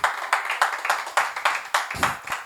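A church congregation at a worship service claps in a steady, even rhythm of about three claps per second, fairly loud and close, with no other sound standing out.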